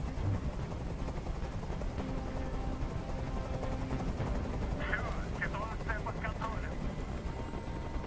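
A helicopter in the video game Detroit: Become Human gives a steady, thrumming drone throughout, with voices talking over it and a burst of sharp, clattering sounds near the middle.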